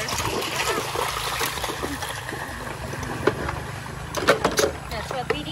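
Dishes are washed in a river, with steady splashing and trickling water and occasional sharper splashes and clinks, while people talk nearby.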